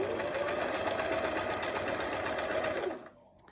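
Hobbycraft sewing machine stitching, a steady, close mechanical hum with a rapid needle rhythm held for about three seconds before it stops, leaving near silence.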